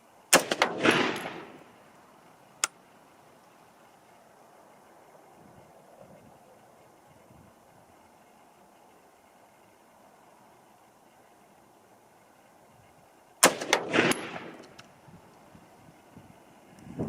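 Two loud bursts of 6.5 Grendel rifle fire, one at the start and one near the end, each with sharp cracks and a ringing tail, separated by a long stretch of quiet outdoor background with a single faint click.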